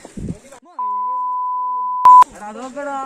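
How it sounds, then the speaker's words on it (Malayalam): A steady, loud electronic censor beep holds one pitch for over a second, cutting into speech, with a short burst at its end before talking resumes. "ഇപ്പൊ ഞാൻ ബീപ്പ് ഇടണല്ലോ"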